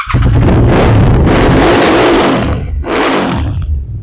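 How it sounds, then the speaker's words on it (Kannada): A second-owner 2022 motorcycle fitted with an aftermarket exhaust revs loudly and close up, a deep continuous roar that swells and briefly dips before rising again. "ಗಾಡಿ ಸೌಂಡ್ ನೋಡ್ಬೋದು."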